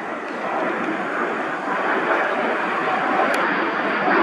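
A Hornet military jet flies over near a naval air station in San Diego, a loud broad engine roar that holds steady and swells slightly as it passes, with no talk.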